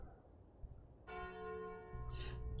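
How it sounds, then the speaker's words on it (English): The Calling Bell relic rings in the deck-building video game Slay the Spire: a single clear, resonant bell strike with a long sustained tone, followed by a short bright chime near the end. "Oh, I have to take the calling bell."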